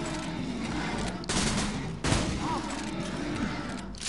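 Dense, continuous gunfire in Borderlands 2 crackles throughout, with a couple of heavier bursts and booms standing out from the steady rattle of a game firefight.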